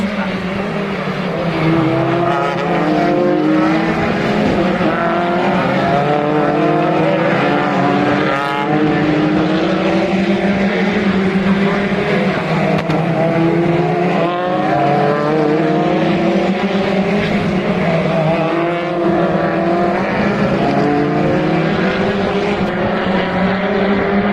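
BTCC touring race cars roar past at Snetterton in wet conditions, a loud continuous engine drone with shifting pitch as cars pass close to the grandstands, and a commentator talking over the noise.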